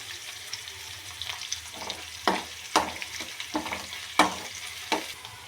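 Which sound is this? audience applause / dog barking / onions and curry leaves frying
onions and curry leaves frying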